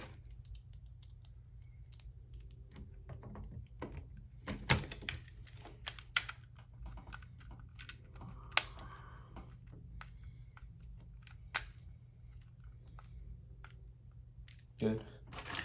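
Small screws being driven back into an Xbox Elite controller shell, giving sparse light clicks and plastic ticks at close range, quiet and irregular, with a voice talking over them.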